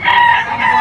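A three-year-old stag rooster crows loudly and close at a crowded gamefowl holiday sale, one short sustained call.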